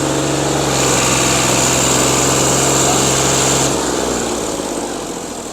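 A tractor engine runs steadily after being push-started, a loud close mechanical drone that holds for several seconds and then eases down slightly toward the end.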